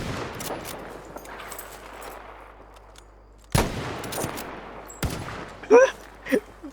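Gunfire in the World War II shooter game Battlefield V, with loud sharp shots at about 3.5 and 5 seconds over a steady din of distant battle noise, plus a few brief bursts near the end.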